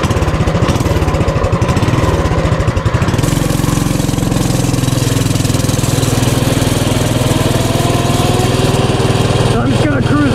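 Coleman CT200U mini bike engine with a performance kit and disabled governor starting up and idling, a loud, throaty, close single-cylinder chug that settles into a steady run with higher revving.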